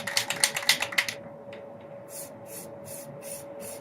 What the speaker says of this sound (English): What you're going to do with this is just spray the dark green over top of the light green.